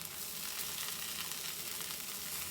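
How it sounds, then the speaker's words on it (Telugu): Urad dal, cumin, mustard seeds, dried red chillies and curry leaves fry in hot oil for a tempering, a continuous close sizzle with crackling, steady in level and free of talk. "కరివేపాకు వేసి పోపు వేగిద్దాము."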